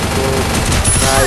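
Rapid gunfire from a video game shooter, a loud continuous burst of shots packed tightly together for about a second, close and dense with no pauses.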